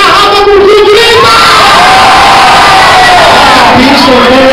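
Loud crowd of young voices shouting and cheering together at an event, a sustained roar of yells and whoops that fills the whole stretch without pause.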